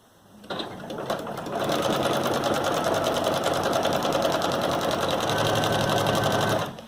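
A sewing machine runs steadily for several seconds, a fast even zigzag stitching rhythm along a feed-bag tote strap starting after a brief pause and stopping abruptly near the end.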